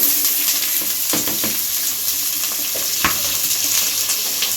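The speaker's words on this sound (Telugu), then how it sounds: "ఇవి కొంచెం బ్రౌన్ కలర్ ఆనియన్స్ ఎర్రగా వేగినాయండి" Onions sizzle loudly in hot oil with whole cinnamon, cloves and cumin, a steady dense crackle with a few stirring scrapes and clicks, close up and without voices.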